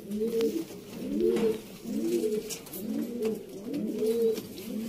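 Pigeons coo in a repeated low, throaty rhythm, several calls in a row, close by and moderately loud over faint background noise.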